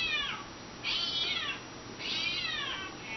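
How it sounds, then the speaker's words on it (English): Cats meowing on a television, two drawn-out meows about a second apart following a fading earlier one, moderately loud over a faint room hiss. "Are you watching kitties on TV, Rookie?"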